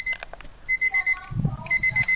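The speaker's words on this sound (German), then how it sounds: "Das ist mein Wecker, ich muss ausmachen." Alarm clock beeping in a fast repeating pattern of short electronic chirps, close and clear, with a faint thump under it.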